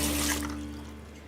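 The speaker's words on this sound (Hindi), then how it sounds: "टैप बंद करो ना, पानी वेस्ट हो रहा है।" Water runs from an open tap in a steady, hissing splash that starts loud and gradually softens, with a low mains hum beneath it.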